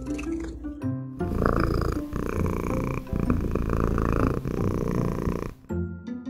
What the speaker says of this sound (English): he's just sitting there purring away